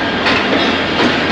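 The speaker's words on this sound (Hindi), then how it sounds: "finally Karachi cantt railway station से डिपार्ट कर गए, और नेक्स्ट स्टॉप होगा कराची सिटी रेलवे स्टेशन का" A Karachi Circular Railway local train pulling out of Karachi Cantt station, heard from on board as a loud, steady rumble of wheels and carriage noise, brief and continuous.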